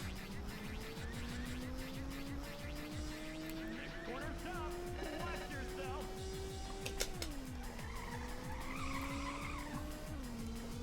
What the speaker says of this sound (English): Little drift here.